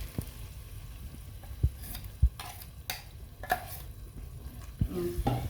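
Ginger, garlic, tomato paste and coconut fry in a pan with a soft, steady sizzle, broken by several sharp scrapes and clinks of a spoon stirring against the pan; faint and close, with no talking.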